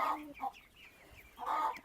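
Chickens cluck in short bursts close by, a pause between calls, with no speech.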